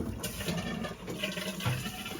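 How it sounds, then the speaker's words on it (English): Water rushes steadily through the pipe of a Rheem tankless water heater as the supply is opened during maintenance, a faint continuous flow with no talk. "I'll open that water."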